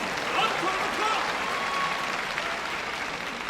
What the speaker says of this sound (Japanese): この攻防に拍手が起きます。